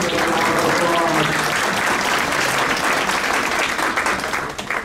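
Loud, dense applause from an audience at a distinguished staff awards ceremony, a continuous roar of clapping with some voices mixed in, holding steady before tapering slightly at the end.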